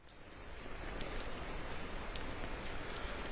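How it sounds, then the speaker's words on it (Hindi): Heavy rain pours down in Srinagar, Kashmir, a dense, steady hiss of drops on surfaces that stays loud and even throughout, with no voices over it. "अब झमाझम बारिश श्रीनगर में शुरू हो चुकी है।"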